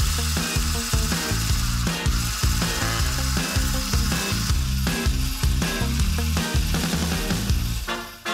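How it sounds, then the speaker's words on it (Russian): An electric mixer whisks eggs with sugar, a loud, steady motorized whir with rhythmic pulsing as the beaters cycle through the mixture, close and continuous with no speech. "Сахар вводим постепенно и взбиваем яйца до того момента, как сахар растворится, а масса увеличится в объеме."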